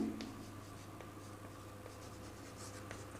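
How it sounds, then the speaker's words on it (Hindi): A pen scratches out handwritten notes, faint quick strokes and taps against a quiet room hum with no talking. "तो मैं यहाँ पर नोट करके लिखता हूँ"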